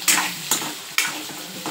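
Potatoes sauté in hot oil in a pan with a continuous sizzle, punctuated by several scraping stirs at a steady rhythm.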